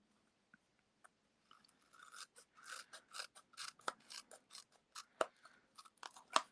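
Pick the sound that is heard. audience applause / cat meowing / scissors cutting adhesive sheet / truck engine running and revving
scissors cutting adhesive sheet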